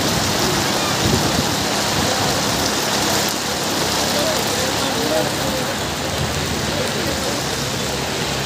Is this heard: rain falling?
yes